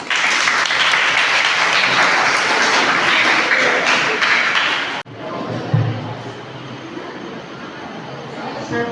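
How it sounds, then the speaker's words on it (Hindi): Students and guests at a government high school debate competition applaud loudly for about five seconds, then the clapping cuts away to quieter room murmur. "ताली बजाइए।"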